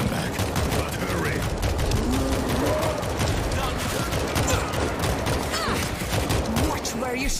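Dense, continuous gunfire and rapid automatic bursts roar throughout a World War Z zombie shooter battle, loud and unbroken, with shouted voices in the mix.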